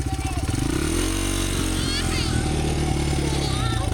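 A Honda dirt bike engine runs close by, a loud, steady idle with a throbbing low rumble that never lets up, and voices faintly in the background.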